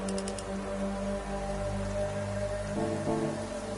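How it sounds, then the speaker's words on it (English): Steady rain drums continuously as an in-game sound effect in Gran Turismo during a race at Suzuka with dynamic weather, a dense, even hiss layered over a low engine-like drone. "You literally can't turn the sound of rain off."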